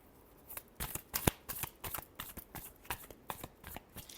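Tarot cards shuffled by hand in a steady run of crisp riffling bursts and soft slaps, close and clear, with no talking.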